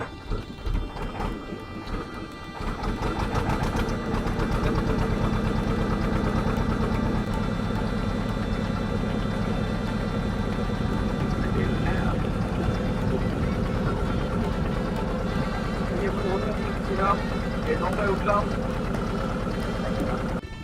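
A boat's engine starts up and runs as the craft pulls away from the riverbank at Taki, West Bengal, settling into a loud, steady, rough drone with wind-like rushing noise over it.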